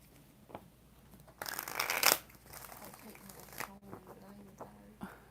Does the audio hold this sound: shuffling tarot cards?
yes